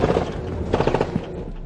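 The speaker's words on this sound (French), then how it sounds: "Des tirs sur le convoi." Bursts of gunfire strike a military convoy of Cameroon's BIR forces, a quick cluster of sharp cracks in the middle over a steady rumble of vehicle engines, with several more shots scattered around it.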